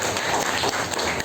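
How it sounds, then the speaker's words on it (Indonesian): A school class gives a brief round of applause, a short burst of many hands clapping together that stays fairly loud for just over a second. "Tepuk tangan"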